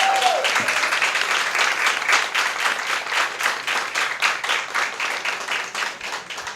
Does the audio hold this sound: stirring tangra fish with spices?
no